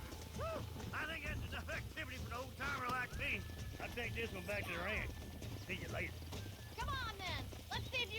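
Horse hooves clip-clopping in the video game Red Dead Redemption, a steady trotting rhythm heard under a person talking continuously over the game audio.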